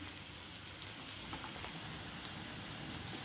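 Chopped onion sizzles steadily in a hot pan for a restaurant-style paneer mushroom masala, a constant soft hiss and crackle with no pauses and no voices.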